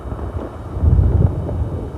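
Low, rumbling gusts of strong wind buffet the microphone beside a river at Haddiscoe Bridge on the Norfolk Broads, swelling louder midway and then holding steady.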